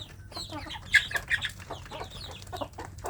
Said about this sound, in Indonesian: ketika anak ayam kampung ini di dalam kandang seperti ini